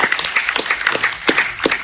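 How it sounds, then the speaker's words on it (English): An audience at a health event claps together in a short, dense, lively burst of applause, close and fairly loud, with no talking. "we need to give ourselves a clap because we survived something impossible"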